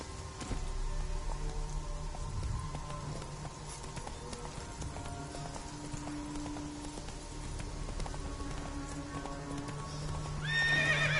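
Roach, the horse in the video game Witcher 3, gallops with steady, rhythmic hoofbeats over a constant patter of rain, and a whinny rises near the end.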